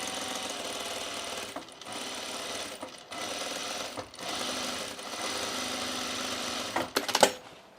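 A sewing machine top stitches a sunblock top in several rapid whirring runs separated by brief pauses, ending in a short clattering burst; no one speaks.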